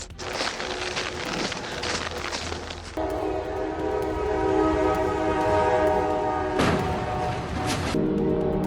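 A tram in Mesa blasts a loud, sustained horn that starts abruptly and holds steady, briefly interrupted by a sharp burst of noise, just before it crashes into a garbage truck amid rumbling street noise.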